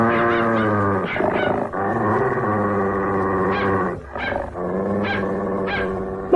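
Cartoon dog barking in short bursts over a sustained growl, loud and close, with repeated yips and snarls throughout and no voices.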